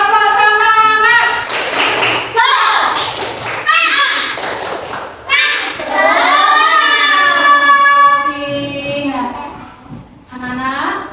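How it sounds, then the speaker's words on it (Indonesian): Children clap through a rhythmic spirit chant in a classroom, their sharp hand claps and chanted voices sounding close and loud together, with a teacher's voice between. "Ayo, tepuk semangat dulu. Tepuk semangat."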